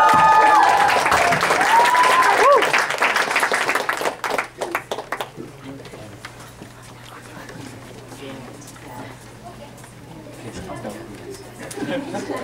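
Audience applause and clapping for a girls' dance group at an evening performance, loud and dense at first, then thinning into scattered claps and crowd chatter that fade to a low murmur.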